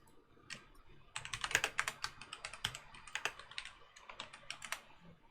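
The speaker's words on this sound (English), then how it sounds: "I can hear Kit clacking on the screen" Keyboard typing comes through a video call as quick, irregular clacking bursts, faint and compressed, with no one speaking.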